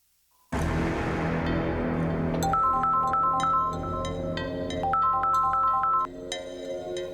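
A phone ringtone plays a repeating electronic melody of bright, high-pitched beeps over a steady background hum, looping for several seconds while a call is placed, then stopping.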